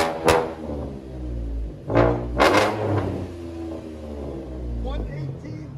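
A Chevy Camaro 3.6L V6 with an aftermarket exhaust revs in loud, sharp bursts, two or three quick throttle blips over a steady rumbling idle, close by; people talk briefly nearby.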